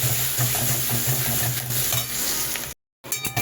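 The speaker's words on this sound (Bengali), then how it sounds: "এবার আমি পেঁয়াজটা একটু হালকা লাল করে ভেজে নেব।" Onions frying in oil with cinnamon and clove, a dense continuous sizzle with stirring scrapes, loud and close, cut by a brief full silence before resuming.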